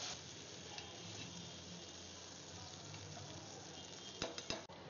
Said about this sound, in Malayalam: ചൂടായി വരുമ്പോൾ നമ്മുടെ വെണ്ണ ഇതിലേക്ക് ചേർത്ത് കൊടുക്കാണ്.